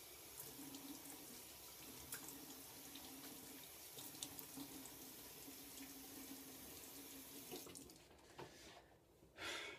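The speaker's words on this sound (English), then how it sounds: "I'm just going to give a quick rinse here." Steady running tap water splashes into a sink during a quick rinse while shaving with a shavette razor: a continuous close hiss and gurgle that ends with a few brief sloshes.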